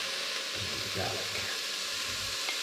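Garlic frying in oil alongside onion in a pan over medium heat, a soft, fairly quiet continuous sizzle with faint stirring movement, close by and without speech.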